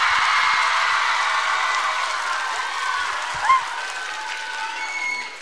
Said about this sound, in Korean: 마스크를 뚫고 나오는 여러분들의 함성